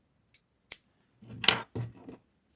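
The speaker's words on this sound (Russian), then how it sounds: "Так, теперь нить обрезаю." Scissors snipping knitting yarn for sock-making: a couple of faint metallic clicks, then two short crisp cuts, close and quiet in an otherwise silent room.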